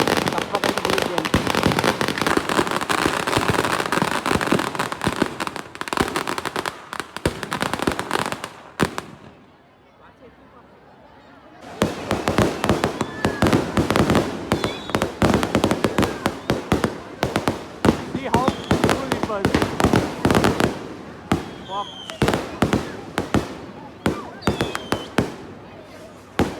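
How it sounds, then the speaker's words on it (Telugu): Strings of firecrackers burst at a village festival near Vizag, dense rapid cracking and popping going on for many seconds, a short lull in the middle, then more volleys with scattered sharp bangs and distant crowd noise. "ఇక్కడ వచ్చే బాంబు సౌండ్ చూడండి."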